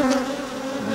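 Honey bees swarming around an open Flow Hive during an outdoor inspection in Eumundi, Australia, a dense, steady buzzing drone that is close and loud throughout.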